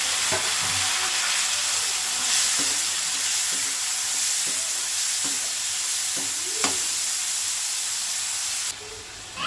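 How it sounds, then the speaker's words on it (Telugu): Tomato pieces frying in a pan with ginger garlic paste, a continuous loud sizzle and hiss, with soft stirring scrapes tapping through it at an uneven rhythm. "ఫ్రై అయిన తర్వాత టమాటా ముక్కలు వేసుకున్నాం."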